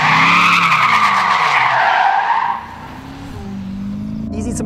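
Tires squeal loudly as a car slides through a drift, the engine droning beneath, then the screech fades into steady engine rumble.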